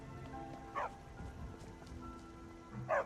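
Dog barking in the video game Skyrim, two short barks about two seconds apart over faint rain-like background ambience, with no talking.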